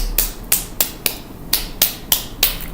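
Someone claps with the backs of the hands, about nine crisp, evenly spaced slaps, close and loud with a brief decay after each.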